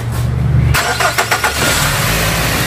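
The engine of a Nissan X-Trail T30 with a rattle suspected in the tensioner or alternator pulley idles loud and close, then revs briefly in a couple of quick throttle blips with a rough, rattling edge.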